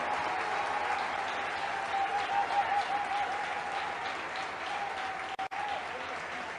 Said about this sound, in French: Now is the good time for you to clap your hands and give